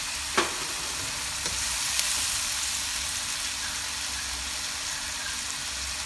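Fresh tomatoes fry in a pan for a Filipino pork and chicken dish, giving a loud, steady close sizzle with a couple of brief clicks near the start.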